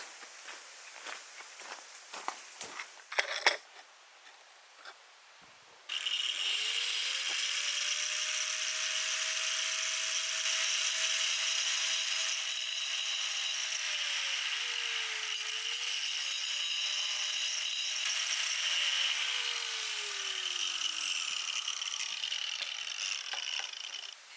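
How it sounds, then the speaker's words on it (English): An angle grinder cuts through floor tiles in a log cabin, a loud, sustained high whine whose pitch dips and rises under load for about eighteen seconds, preceded by a few sharp clicks and knocks. "I will probably try to cut these with the angle grinder."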